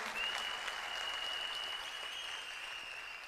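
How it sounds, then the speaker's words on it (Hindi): An audience at an IMC leadership training seminar applauds for the IMC Foundation, a soft, even patter of clapping that holds for a few seconds under a faint steady tone. "तो मैं चाहूंगा एक बार तालियां जोरदार आईएमसी फाउंडेशन के लिए।"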